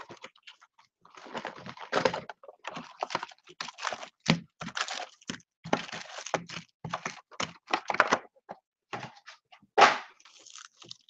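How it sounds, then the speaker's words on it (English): A BCW Supplies box break knife slices the cellophane wrap on a trading card box, giving close, irregular crackling and scratchy tearing bursts with brief pauses between strokes. "We're going to go ahead and cut the cellophane with my BCW Supplies box break knife."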